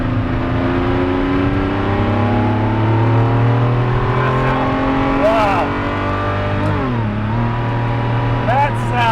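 A Ferrari F50 supercar engine revs and accelerates from inside the cabin, its harmonic wail climbing and dropping through several gear-like sweeps, loud and close, with people talking over it.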